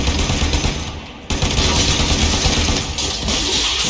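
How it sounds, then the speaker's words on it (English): Sustained loud automatic weapon fire aimed at an alien hive in the sci-fi game Warframe, a dense continuous rattle with a brief drop in the middle before resuming. "Destroy it with weapon fire."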